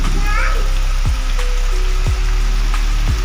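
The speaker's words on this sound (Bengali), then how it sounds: "বাইরে প্রচুর বৃষ্টি পড়ছে" Heavy rain pours outside a home during a storm, a steady dense hiss of falling water with splashes, joined by a few sharp low thumps and a voice briefly in the background.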